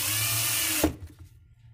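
A cordless impact driver runs on a shorted lithium tool battery, whirring loudly and steadily, then cutting off abruptly with a sharp clunk, followed by quiet low rumble.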